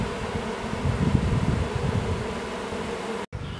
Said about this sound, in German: Die Bienen krabbeln eigentlich ganz gut rein.